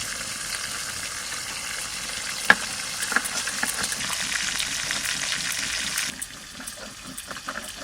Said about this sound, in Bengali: বড় পেটিগুলো ভেজে এই দেখেন কতটুকু হয়ে গেছে, তেলগুলো সব বেরোয় গেছে।